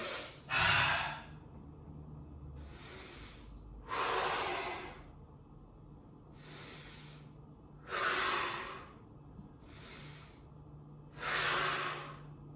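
Heavy breathing during a full-body home workout: about six loud, airy exhales and inhales come at a steady interval of roughly two seconds, close to the microphone with no speech.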